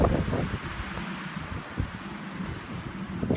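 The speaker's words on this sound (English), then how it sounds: "And if you can see that wind whipping or not." Wind whipping through a blizzard on a night near -25, a steady rushing roar with gusty surges and rustling buffets close to the microphone, heard alone without talk.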